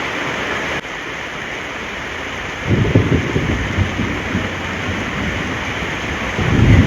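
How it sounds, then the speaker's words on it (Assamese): Very heavy rain pours down in a dense, loud, steady roar, growing heavier with gusty surges partway through, close by and with no voices. "বৰষুণ পুৰা অতিমাত্ৰা বৰষুণ।"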